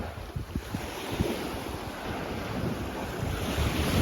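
Waves crash and wash in on small Alder Bay Beach, Bowen Island, a loud rolling surf with strong wind buffeting the microphone, continuous and close with no voices.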